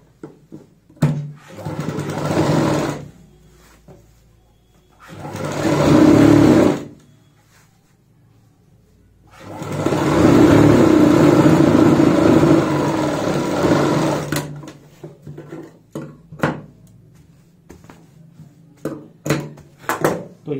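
A sewing machine stitches along the bottom side of a homemade travel bag in three separate bursts of whirring motor and needle, loud and close, with clicks and fabric handling in the gaps.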